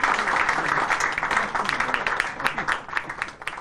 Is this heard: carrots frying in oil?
no